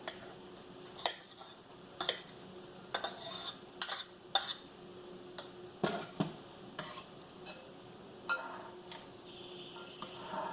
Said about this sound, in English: Now I'm going to start adding my quinoa to it.